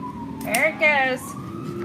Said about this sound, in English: That sounds like a fire truck.